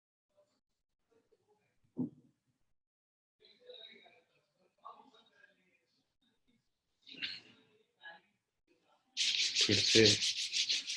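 Two palms rubbing briskly together during a guided ritual gesture exercise, a close, loud burst of dry friction near the end following brief spoken words and quieter hand movements.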